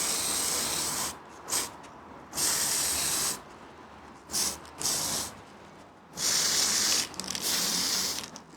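Aerosol spray paint hisses over model trees in short bursts, several loud close blasts of varying length separated by brief pauses.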